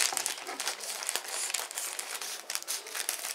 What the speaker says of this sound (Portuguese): Você vai pegar a tesoura. Onde tem as alças aqui, ó. Você vai cortar. Vai tirar fora.